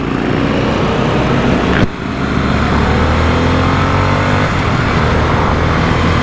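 A Harley-Davidson Sportster S motorcycle engine runs loud and close, holding a steady roar and then revving higher to about 4,000 rpm as the pitch climbs.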